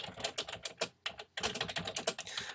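Rapid typing on a computer keyboard while writing a blog entry, with quick uneven bursts of crisp key clicks, one brief pause, then a denser flurry of taps, close and clear with no voices.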